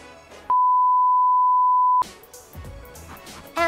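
A single loud, steady electronic beep from an airport boarding-pass scanner sounds for about a second and a half, set between stretches of busier background sound.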